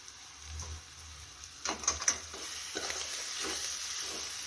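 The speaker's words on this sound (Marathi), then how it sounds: "मसाला छान असा तेल सुटेपर्यंत आपण भाजलेला आहे" Masala being stirred and roasted in hot oil for a potato rassa curry, a soft steady sizzle with a few scraping stirs of the spoon in the middle, close and fairly quiet.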